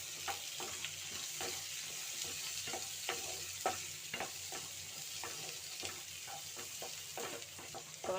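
Carrots and beans stir-fry in a pan, a steady sizzle punctuated by repeated sharp scraping strokes of a spatula at an uneven rhythm, close and clear with no talking.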